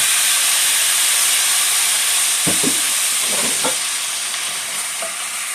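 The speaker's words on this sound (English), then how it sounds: "I'm just going to add 1 tad bit of water to the pan" Water splashes into a hot pan of sparerib tips, setting off a loud, steady sizzle and steam hiss, with a few scraping stirs partway through and no talking.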